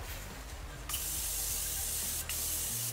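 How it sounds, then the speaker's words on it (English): Two bursts of fine makeup setting spray hiss close by, a long continuous spritz followed by a shorter one, with no voices. "So I'm just gonna spray and melt all the powders in."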